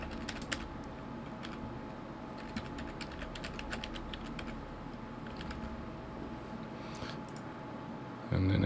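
Password being typed on a computer keyboard, a quick run of light, soft key clicks in short bursts over a quiet room hum, ending with a brief thump.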